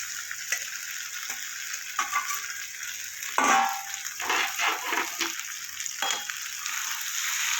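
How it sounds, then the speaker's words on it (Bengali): Fried okra and potatoes drop into a pan of cooked spices: a soft sizzle, then a sudden louder hiss and clatter as they hit, followed by bursts of stirring and frying; nobody talks. "এবার আমি ভেজে রাখা ভেন্ডি আর আলুগুলো দিয়ে দেবো"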